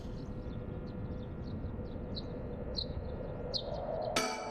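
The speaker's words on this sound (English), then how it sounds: "I hear birds" Birds chirp in short, repeated high tweets over a low, steady park ambience with a distant rumble in the game Paranormasight, ending with a sudden bright crackling noise.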